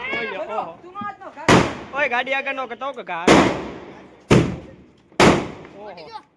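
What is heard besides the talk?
Diwali firecrackers exploding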